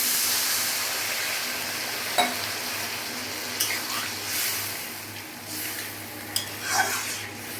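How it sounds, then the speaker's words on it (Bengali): Water is added to simmering fish curry masala, producing a steady hissing sizzle close by with a few soft splashes and stirring knocks scattered through, and no talk. "কষানো হয়ে গেছে, আমি এর মধ্যে জল দিয়ে দিলাম।"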